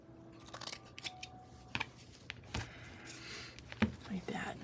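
Scissors trim paper while a junk journal is assembled, producing a series of sharp, irregular snips close by, with quiet speech in the background.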